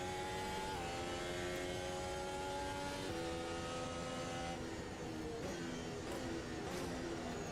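F1 car engine at Spa-Francorchamps in a racing video game, a high, steady whine that climbs and drops through several sharp gear shifts, loud and constant with no talk.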